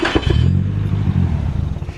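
Nissan SR20DET engine cranking and catching, a rough low rumble with uneven firing pulses, loud and close, settling into a lumpy idle without talk.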